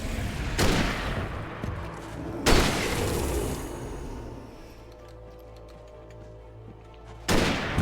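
Three loud shotgun blasts from the Alan Wake video game, each a sharp broadband boom with a lingering rumbling tail, spaced a couple of seconds apart.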